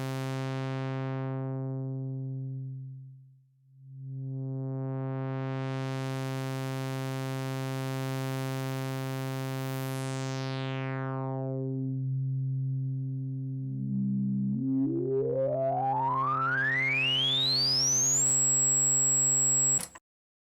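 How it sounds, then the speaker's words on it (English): A modular synthesizer filter hums as its cutoff and resonance are adjusted: a steady buzzy tone dips and sweeps, then a resonant pitch glides sharply upward into a loud high whine near the end, no voices. "Now we can adjust the cutoff and resonance controls of the filter."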